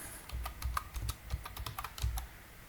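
Computer keyboard typing during an ICT spreadsheet exercise, soft, quick, uneven keystrokes tapping steadily at a close, fairly quiet level with no voices.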